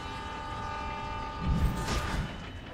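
Train rumble in the Spider-Man: Shattered Dimensions video game, a steady mechanical drone with sustained tonal hum that swells briefly in the middle, heard alone without talk.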